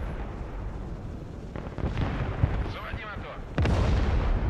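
In the video game Broken Arrow, artillery fire booms and rumbles in a dense battlefield mix, with a sharp louder blast near the end amid continuous gunfire.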